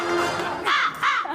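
Crow caws, two loud harsh calls in quick succession near the end of a brief stretch, close and clear with faint background murmur, in a Pakistani television comedy show setting.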